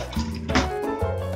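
Thick, fiery chilli hot sauce is poured from a container into a plastic tub, giving a close, steady liquid glug and splatter with a few drips, with no one talking.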